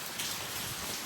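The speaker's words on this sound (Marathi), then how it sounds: "ते पाऊस बघा थांबलाच नाही." Steady, dense rain falls continuously in a close, even broadband patter that holds at one level with no voices.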